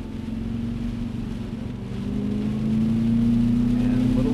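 A 2011 Cadillac CTS-V coupe drives on a race track, its engine humming close by with a tone that climbs steadily as it pulls through a right-hand bend, while people talk over it.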